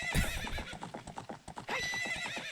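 Epona, the horse in the Ocarina of Time video game, gallops with quick rhythmic clip-clop hoofbeats and lets out a loud whinny midway, close and clear with no talking.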